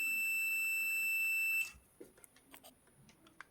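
A multimeter on continuity-test mode sounds a steady high electronic beep while probing a 24V SMPS circuit board, the tone holding for about a second and a half then cutting off, followed by faint clicks and handling noise.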